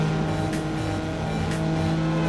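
A Mazda MX-5 races in Need For Speed Underground, its engine holding a loud, steady high drone with a brief tire squeal. No voices are heard.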